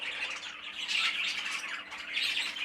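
Young cock budgerigars, a dark green bird among them, squawk and chatter continuously with no one talking. The harsh, overlapping calls sound close and fairly steady, rising in bursts throughout.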